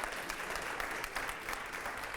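Audience applause at a political talk event in Rajasthan, a dense steady clapping crowd sustained throughout at moderate level, no voices over it.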